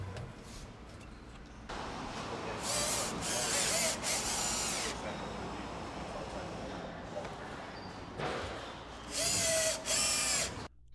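A power drill drives screws to secure an AquaGo propane water heater into place, in short loud whirring bursts separated by steady background noise, with a voice speaking alongside.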